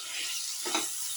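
Spinach and paneer are sautéed in a pan: a brief, steady sizzle with a short stirring scrape in the middle.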